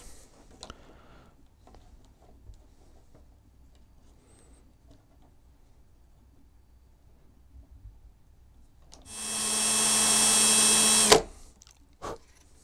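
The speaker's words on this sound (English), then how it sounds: "put a little mark, and do a little drill" A power drill runs for a couple of seconds, a loud steady whir that rises and then cuts off, with quiet handling sounds before and after.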